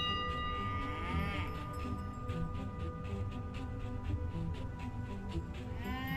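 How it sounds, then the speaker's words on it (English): A goat bleats in the VR video game Maskmaker, playing over a dense, steady game soundscape with layered background tones and music throughout. "Still, the bleating sound bothers me."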